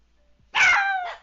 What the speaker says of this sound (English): here comes the barking of the dogs